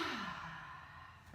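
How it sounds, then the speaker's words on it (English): A full deep breath let out during a gentle beginner's yoga flow, a soft sighing exhale that falls in pitch and fades gradually, close and quiet with no talking. "Full deep breath."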